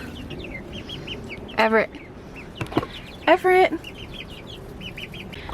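Hens in a farm coop, young birds being raised to lay eggs, give two short loud bursts of clucking over steady background chatter, with a brief voice heard.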